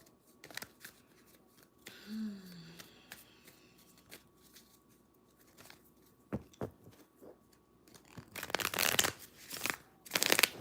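Soft riffling and flicking of a deck of cards being shuffled, quiet at first with scattered taps, then a louder burst of shuffling toward the end.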